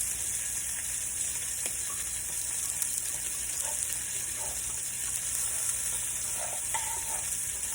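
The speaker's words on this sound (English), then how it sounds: "just going to stir it in and whisk it up" Cream of celery being whisked into a gravy mix, giving a steady wet stirring and light sloshing over a constant background hiss, with faint scattered clinks of the whisk against the bowl and no talking.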